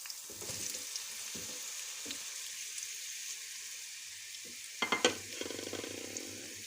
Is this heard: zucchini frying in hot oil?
yes